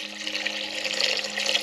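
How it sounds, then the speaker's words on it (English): Water running steadily into a cooking pot on a stove while making chicken gravy, a close, continuous splashing pour lasting under two seconds, with no talking. "so we got our water in there"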